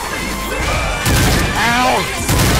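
Heavy bursts of gunfire and crashing impacts in the zombie shooter Left 4 Dead 2, coming as loud clustered blasts, with excited voices shouting over the action.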